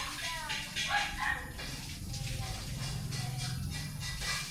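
An older dog barks and yips in short bursts mixed with whimpering, fairly faint and under people talking nearby.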